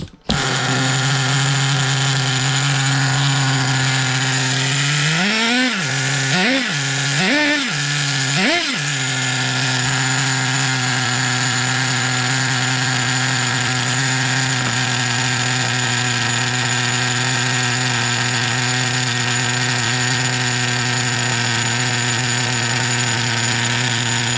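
The small nitro engine of a 1/10 T2M Pirate Thunder RC car screams loudly and continuously, its revs briefly surging and dropping a few times before settling into a steady high-pitched drone.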